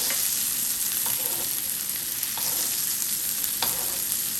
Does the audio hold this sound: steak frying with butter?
yes